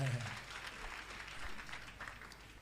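A church congregation applauds and cheers for Jesus during a French-language prayer service, a steady wash of clapping from a crowd in a large room, with a voice briefly heard under it at the start.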